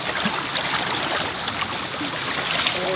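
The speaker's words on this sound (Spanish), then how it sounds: "Aquí estamos limpiando nuestro platito con unas hojitas y con el agua." Water splashes and trickles steadily as a plate is rinsed and rubbed with leaves outdoors during a mountain hunting trip, a close, continuous gurgling flow with no talking.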